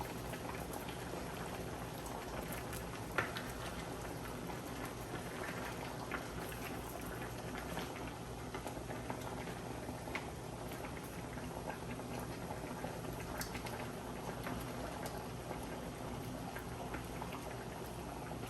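Fish cooking in sauce in a covered pot for Jamaican steamed fish, a soft continuous bubbling and simmering patter, faint and steady throughout.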